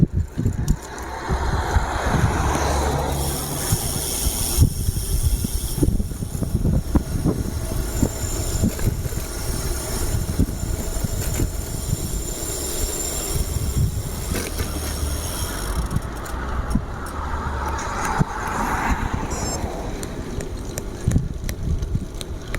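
Steady rush-hour road traffic at around five o'clock, continuous wheel and engine rumble with passing vehicles swelling and fading, heard from a bicycle on a landslide diversion route near Tumble and Pontyberem.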